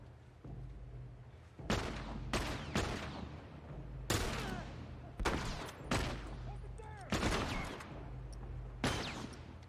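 Gunfire in The Last of Us combat, a string of loud, sharp shots spaced a second or so apart over a steady low rumble of game ambience.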